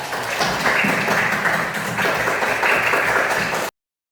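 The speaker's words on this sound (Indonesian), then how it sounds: "Ini luar biasa. Tepuk tangan." Schoolchildren in an Indonesian elementary classroom burst into applause, a dense, steady wash of many hands clapping together that runs loud and continuous for several seconds before cutting off abruptly.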